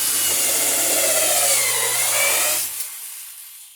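A loud, whining power drill grinds steadily through a plank into a wooden boat frame for a couple of seconds, then cuts off, leaving a quiet fading tail.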